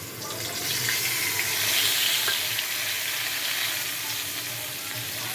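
Boiled banana flower and tomato fry in a pan with a steady, moderate sizzle, close by, with faint stirring movements beneath.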